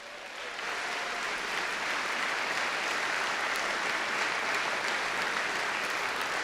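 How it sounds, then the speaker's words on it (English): Sustained crowd applause at a horse racing Hall of Fame induction ceremony, swelling after the first half-second into a steady, dense roar of clapping that holds loudly to the end. "a big hand of applause for the legends of our sport"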